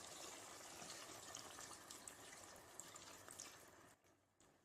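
Half a cup of water is poured into a pot of Hyderabadi black-pepper mutton that has been cooking on a low flame. A steady, soft gushing runs for about four seconds and then cuts off abruptly.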